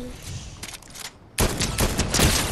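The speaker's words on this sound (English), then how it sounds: "I hear gunshots that direction." Bursts of gunfire in the video game Fortnite, a quieter volley early on followed by louder, denser rapid shots crackling through the second half.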